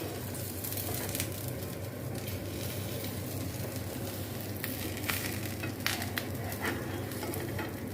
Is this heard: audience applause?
no